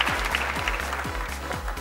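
A game show studio audience claps in applause, a brief, loud burst of dense rhythmic hand claps.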